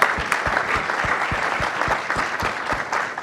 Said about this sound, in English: Please give me a round of applause for Dr.